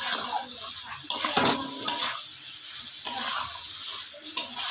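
Soybean curry frying and being stirred in a pan, with steady sizzling and repeated scraping strokes of a utensil against the pan, close and fairly loud, no talking.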